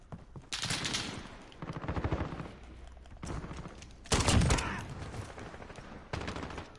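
Dragunov rifle fire in a video game, several sharp loud shots with echoing tails spaced a second or so apart, the strongest burst near the end.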